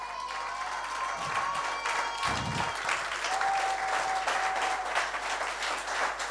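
A church congregation claps together in sustained applause acclaiming Jesus, a dense even patter of many hands with a few louder individual claps, and a held tone like an organ or keyboard underneath.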